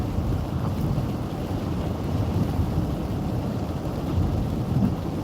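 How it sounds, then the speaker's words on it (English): Rain falling on a car while driving, a steady dense rumbling wash with road and wind noise, continuous and fairly loud with no talking. "Yeah, it's like mostly rain now."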